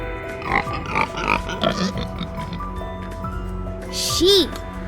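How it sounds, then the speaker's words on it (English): Pig on a farm making a run of short grunting oinks that come in quick bursts, followed by a higher squeal near the end, with a spoken word nearby. "Pig."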